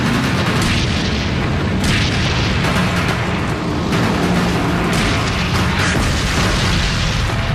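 A stabilized tank gun firing while the tank moves at speed over rough ground, a loud dense roar of repeated heavy booms and rumbling blasts with no break, saturated and close.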